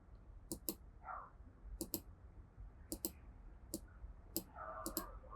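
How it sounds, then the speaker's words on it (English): Computer mouse clicks come in quick double taps, about five pairs spaced roughly a second apart, close and crisp, while tracing shapes in Adobe Photoshop, with faint background noise in between. "I'm just clicking and dragging wherever I have a point."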